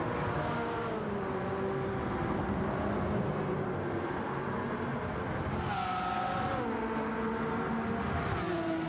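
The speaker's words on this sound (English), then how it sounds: "Yep, the Enzo's noisy." Ferrari Enzo engine in Gran Turismo 7, a loud high-pitched race-car whine climbing and dropping through gear changes as other cars roar past, with no speech.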